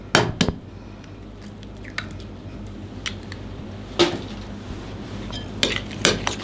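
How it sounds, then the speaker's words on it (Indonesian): A spoon stirs a noodle mixture with a cracked egg in a bowl, giving a few sharp clinks against the bowl at irregular intervals over a low, quiet background. "Kita aduk juga."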